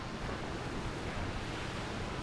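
Ocean waves wash onto a beach in a steady, even roar of surf that stays constant and fairly close throughout, with no voices.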